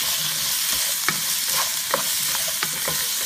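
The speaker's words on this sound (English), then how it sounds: "while that's stir frying" Orange beef stir-fries in a pan over the highest heat, a loud continuous sizzle punctuated by sharp clicks and clatters of stirring.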